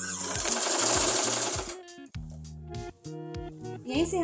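A sewing machine stitching an Afghani salwar runs in a dense, steady burst for the first second and a half, then stops, leaving short mechanical clicks and handling noises while a voice talks.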